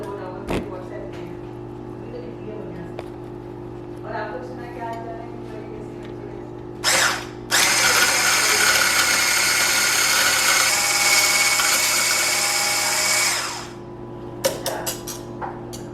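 Kelitos five-piece blender switched on at regular power, a bright loud whir starting after a few seconds of quiet hum and clicks, running steadily for about six seconds before cutting off, followed by a few brief bursts.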